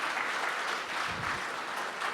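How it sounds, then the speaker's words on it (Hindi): An audience at a kavi sammelan, a Hindi-Urdu poetry recital and mushaira in Ambala, claps in steady, fairly faint applause that carries on throughout. "एक बार पुनः मुझे तालियों से अनुमति दे दें"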